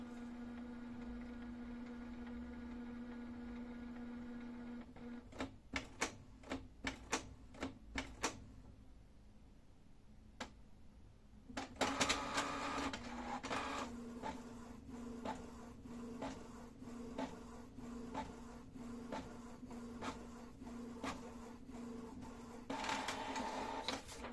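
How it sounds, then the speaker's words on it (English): A Canon PIXMA TR4640 inkjet printer prints a nozzle check page. A steady hum gives way to a run of sharp mechanical clicks, then a busier stretch of feeding and carriage noise with repeated ticks. "We will wait about 10-15 seconds for the printout."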